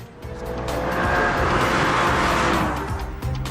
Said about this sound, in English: After starting the engine, you notice this is not a normal engine.